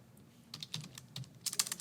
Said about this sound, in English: maybe I'll type that in here